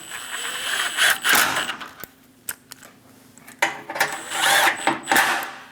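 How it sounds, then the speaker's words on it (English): A power tool snugs down 10mm bolts on a Dodge Durango front bumper, with several short whirring bursts separated by quiet gaps and a couple of sharp clicks, close and fairly loud. "We're going to go around and snug down our 10mm bolts."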